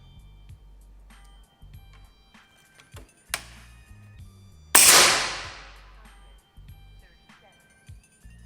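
A single loud PCP air rifle shot bursts out nearby with a hissing decay, preceded by a small click and surrounded by faint handling noises.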